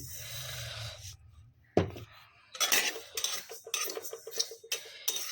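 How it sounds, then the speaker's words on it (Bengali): Sesame seeds roasting in a pan for sweet payesh and pitha, heard as a sharp metal clank followed by a busy stretch of scraping, stirring and light rattling against the pan, fairly close, with no voices. "এখন আমি এখান থেকে কিছুটা তিল ভেজে নেব এই পায়েসে দেওয়ার জন্য পিঠার মধ্যে"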